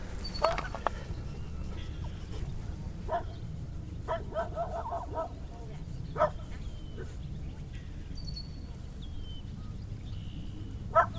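A dog barks outdoors in a landscape setting, a scattered series of short barks spread across several seconds, some closer and louder, others fainter, over a low steady outdoor rumble.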